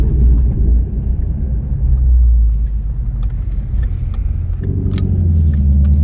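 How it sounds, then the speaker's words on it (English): A Ford GT350R in limp mode gives a loud, steady low engine rumble that sits close by for the whole stretch, with a brief swell partway through and no voices. "The 350R just went into limp mode"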